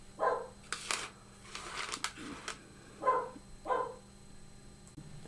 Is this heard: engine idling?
no